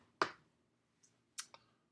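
A few separate keystrokes on a computer keyboard, sharp and close: one firm click, a faint tap, then two quick clicks in a quiet room.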